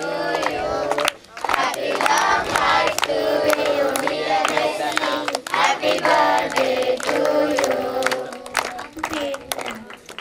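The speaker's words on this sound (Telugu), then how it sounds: "గట్టిగా చప్పట్లు కొడతాం." Church congregation at an inauguration service clapping hands loudly in rhythm during kirtan worship, with strong beats under loud singing and crowd voices, briefly dropping out near the start.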